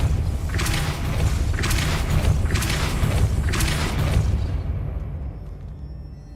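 Four booming, whooshing blasts of the Depulso force spell in the video game Hogwarts Legacy, loud and evenly spaced about a second apart before the sound drops away.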